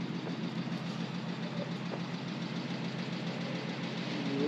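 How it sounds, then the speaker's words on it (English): The flathead V8 of a 1947 Ford pickup idling, a steady low rumble with an even throb that holds at moderate loudness throughout, with no talk over it. "Good sounding little V8."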